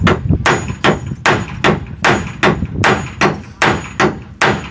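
A hammer driving nails, struck about ten times in a steady, even rhythm, each blow a loud, close, sharp thud with no talk over it.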